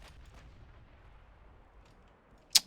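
Warship main guns fire in the naval video game Ultimate Admiral Dreadnoughts: a single sharp, distant-sounding boom near the end, after a low, quiet background.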